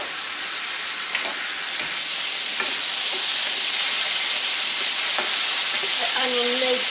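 Onion and celtuce with honey soy sauce sizzle steadily in a hot pan while being stir-fried, a loud constant frying hiss with occasional scrapes and a faint tonal sound near the end.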